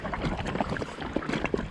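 River waves on the Nemunas slap and splash against the hull of a small rowing boat, close and choppy, with a gusty wind rush over the water and no voices.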